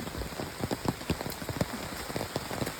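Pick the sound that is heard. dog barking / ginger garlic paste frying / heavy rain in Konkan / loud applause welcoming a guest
heavy rain in Konkan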